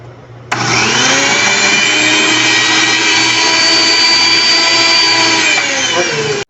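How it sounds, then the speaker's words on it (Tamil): A kitchen mixer grinder grinds soaked lentils, whirring loudly and steadily for several seconds, starting abruptly and stopping at the end, with a high whining motor tone. "இப்போ நம்ம அதை மிக்சியில் ஒரு அரை வச்சுக்கலாம்."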